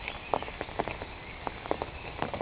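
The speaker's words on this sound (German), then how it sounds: "wir kommen jetzt bei strömendem Regen" Heavy rain patters steadily during a walk out of a forest, with irregular louder drips and splashes nearby, a muffled continuous wash of falling water without talking.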